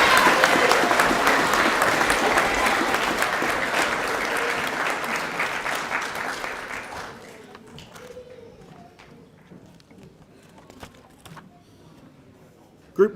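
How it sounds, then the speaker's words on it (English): Applause at a high school co-curricular prize giving, honouring regional champions: a dense burst of clapping fills the first half, then fades to a quiet room with faint shuffling and a sharp knock at the end. "Round of applause for Bay of Plenty champions."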